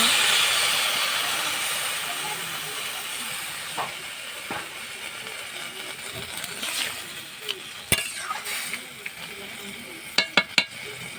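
Crab curry boiling in a covered pot gives off a soft, steady steamy hiss that slowly fades, with a few faint taps and clicks near the end.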